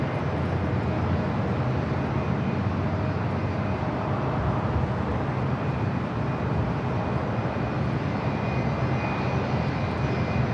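An Asiana Airlines airliner arriving from Seoul on approach to LAX roars loudly and continuously, a dense jet engine wash with a steady high whine running through it.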